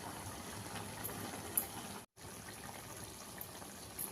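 Tomato pickle mixture bubbling and simmering in a pan over a high flame, giving a steady close hiss with soft gurgling, broken by one brief gap.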